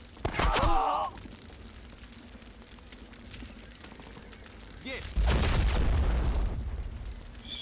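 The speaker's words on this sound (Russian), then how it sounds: "Граната." Grenade blasts in the war video game В тылу врага 2, a sharp nearby boom early on, then a heavier rumbling explosion later that decays slowly over background battle noise.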